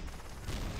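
Artillery strike in the War Trigger 2 tank game, a short dense burst of booming blasts with crackling gunfire, loud and close, no talk.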